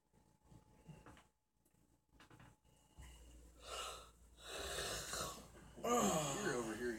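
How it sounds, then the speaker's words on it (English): A person yawns close by, with breathy inhales building into a long, drawn-out voiced groan that wavers in pitch near the end. Quiet breathing and rustling come before it. "You're over here yawning now."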